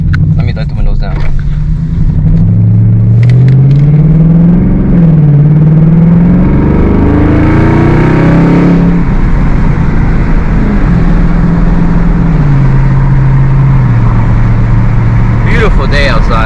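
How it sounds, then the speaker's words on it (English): A car with a sunroof accelerates hard, its engine note climbing and falling in loud, rising revs as the driver hits the gas, with a voice talking over it. "Everybody looks when I hit the gas on this car."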